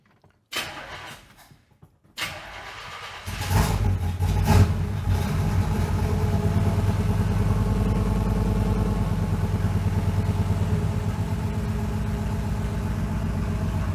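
A 1965 Impala, revived after ten years with fuel primed into the carburetor, gives a few short sputters and then catches, running in a steady, close, loud rumble to the end with no talk.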